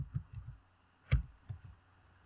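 Typing on a computer keyboard in a Windows search box, a few sparse, close key clicks with one firmer tap midway, alone in a quiet room.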